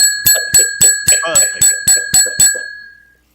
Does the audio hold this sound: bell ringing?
yes